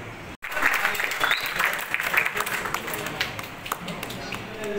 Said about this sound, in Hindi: जोरदार तालियां हो जाएं हमारे मिस्टर डैनी के लिए